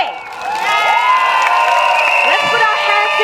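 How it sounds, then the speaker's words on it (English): A crowd cheers, whoops and applauds at a PAP Sengkang team election rally, with a loud, steady wash of voices and clapping carrying on throughout. "让我们以热烈的掌声欢迎人民行动党盛港团队。"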